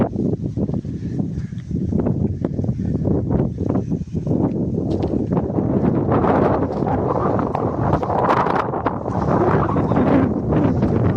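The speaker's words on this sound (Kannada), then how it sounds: "ಒಳ್ಳೆ ಗಾಳಿ ಬೀಳ್ತದೆ ಗುರು" Strong wind gusting across a microphone on a hillside trek at Ettina Bhuja, a steady loud rumble with buffeting swells throughout and no talk.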